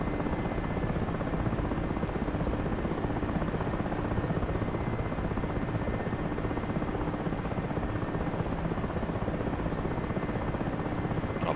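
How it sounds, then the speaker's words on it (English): A helicopter in a flight video game during autorotation, a steady loud rotor drone and whine holding unbroken throughout with no talk. "Alright, here we go. Let's climb it up."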